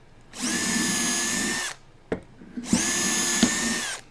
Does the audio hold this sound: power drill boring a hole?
yes